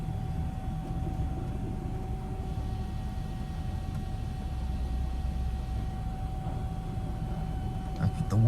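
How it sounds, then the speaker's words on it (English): A D&S Quicksilver hydraulic car wash system runs at Clive Car Wash in Clive, Iowa, giving a steady, loud mechanical hum with a low rumble and faint whine that continues unbroken throughout. "As you can tell, the system runs on hydraulics."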